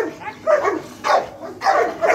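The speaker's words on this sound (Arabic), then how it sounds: "طبعا الكلب المالينو بيشتغل" A Malinois dog barks during bite training, giving four sharp, fairly close barks in an uneven rhythm.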